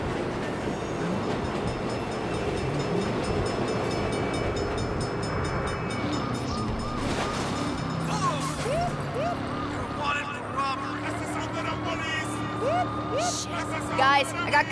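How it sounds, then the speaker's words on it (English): A train in the video game Saints Row rumbles past close by with a steady rolling roar, metallic clatter and squeals, while voices talk over it. "Crap. Bad time for a train."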